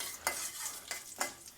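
Mustard seeds and urad dal crackle and sizzle in hot coconut oil as a Kerala-style aviyal tempering is prepared, with a steady close fry broken by several sharp stirring scrapes.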